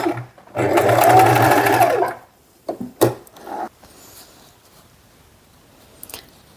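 A sewing machine runs in a close, steady burst stitching canvas panels together, then stops, followed by a few short back-stitch whirs, handling of fabric and faint clicks.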